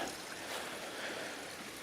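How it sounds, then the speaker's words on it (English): A small babbling brook trickles beside a mossy campsite on Prince of Wales Island, Alaska, as a soft, steady, continuous wash of water with no talking. "just a little stream right there, babbling brook next to you"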